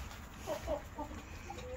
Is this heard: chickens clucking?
yes